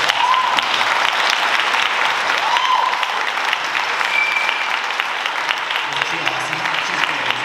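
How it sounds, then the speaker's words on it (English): An audience at a Power Morphicon 2024 fan convention panel gives a long, loud round of applause for a Pink Ranger actress, dense clapping sustained throughout with a few whoops and cheers rising above it. "we get a huge round of applause"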